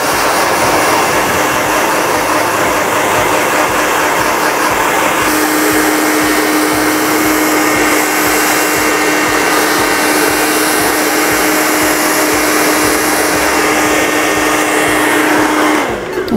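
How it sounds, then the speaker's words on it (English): A hair dryer runs steadily at close range, a loud continuous whooshing roar with a constant motor hum, switching off right at the end. "All right, now let's do a blow dryer."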